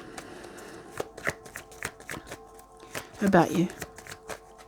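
Tarot cards riffled and shuffled by hand in quick bursts of flapping, snapping strokes, close and crisp, with a voice talking over the card handling.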